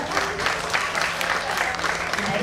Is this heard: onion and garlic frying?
no